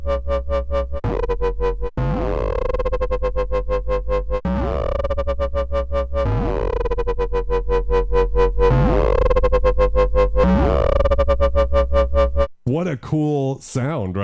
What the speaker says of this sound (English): the LFO goes into such high audio rate,